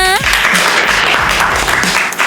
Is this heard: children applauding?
yes